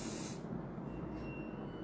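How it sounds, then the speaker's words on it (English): A hairspray can sprays onto hair in one continuous hiss with a sharp burst at the start, close and fairly loud, and no voices. "before you start spraying, keep moving"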